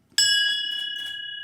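A single podcast bell struck once, a bright ringing ding that rings on and fades slowly with a slight pulsing shimmer, loud and close.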